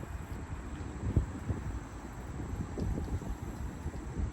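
Steady wind buffets the microphone outdoors on the water while fishing, a low continuous rumble with gentle gusts and no talking.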